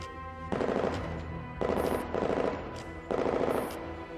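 Three long bursts of rapid automatic gunfire in Girls' Frontline, each rattling volley lasting about half a second to a second, separated by short echoing pauses in a dark interior.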